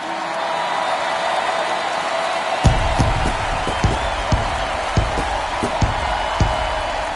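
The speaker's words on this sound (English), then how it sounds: "The crowd is electric" A stadium crowd roars at an NLDS Game 4 baseball game between the Milwaukee Brewers and Atlanta Braves, a dense continuous wash of cheering punctuated by repeated sharp claps or thumps.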